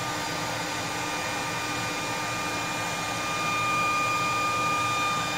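Hot air from a dryer blows into the cylinder of a Remington 1858 revolver during cleaning, a steady close whooshing hiss that grows slightly louder near the end, with no talking.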